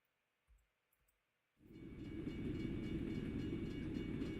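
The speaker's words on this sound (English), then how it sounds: "I need to be able to hear them trains." A train rumbles past in American Truck Simulator or Euro Truck Simulator 2, starting after a couple of faint knocks and swelling into a loud, steady, close roar of rolling cars that carries on to the end.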